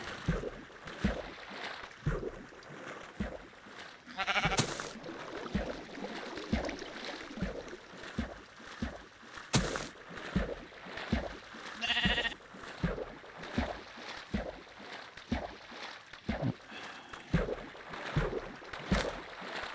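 Sheep in Minecraft bleating repeatedly in short, wavering calls over a continuous trickle of flowing water, with clicks and footsteps from play scattered throughout.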